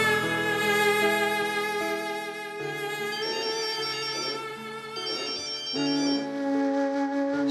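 A mobile phone rings with a melodic ringtone tune that plays on steadily for several seconds, clear and alone with no voices.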